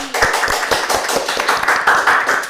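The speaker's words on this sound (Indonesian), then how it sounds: "Tepuk tangan." A group claps hands in a steady, brisk rhythm, fairly loud and close, with no talking.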